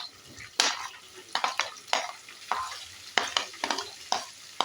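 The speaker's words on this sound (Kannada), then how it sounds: "ಈಗ ಕಟ್ ಮಾಡಿ ಇಟ್ಕೊಂಡಿರೋಂಥ ಈರುಳ್ಳಿ ಹಾಕೋತಾ ಇದ್ದೀನಿ." Chopped onions frying in a pan for hotel-style khara bath, stirred with a utensil that scrapes and clinks against the pan in a repeating rhythm over a steady sizzle.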